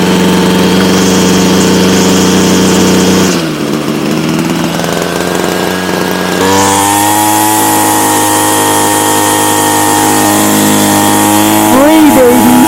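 A Ryobi CS26 weed wacker's small two-stroke engine, running after a carburetor and fuel line replacement, idles loudly, dips briefly, then revs up hard with the throttle on and holds a high, buzzing whine.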